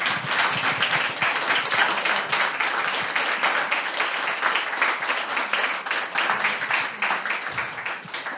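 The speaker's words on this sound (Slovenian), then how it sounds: "da si zasluži en aplavz za to" Audience applause at a Sovretova award ceremony in Slovenia, a steady, dense wash of many hands clapping that carries evenly for the whole stretch without talk over it.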